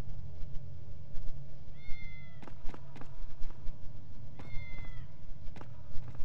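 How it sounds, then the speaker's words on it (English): Cat meowing in the video game Tales of Xillia 2: two clear, drawn-out meows a few seconds apart over game ambience, with scattered clicks and taps around them. "Oh, I hear a cat."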